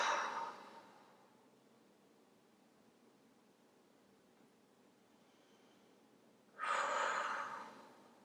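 Slow yoga breathing during a lower back and shoulder stretch, with a long audible exhale at the start, near silence, then another breath drawn in and released near the end, close and soft.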